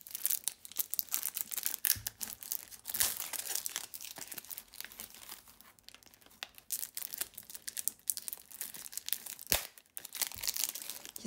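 A thin, plain cardboard box holding a tarot deck is handled and opened close up, with a stretch of crinkling, scraping and tearing rustles in quick irregular bursts and no talking.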